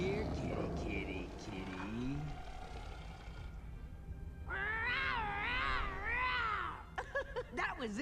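A cat's call, rising and falling in long wavering tones, sounds near and fairly loud after a stretch of talk, with further short vocal sounds at the end.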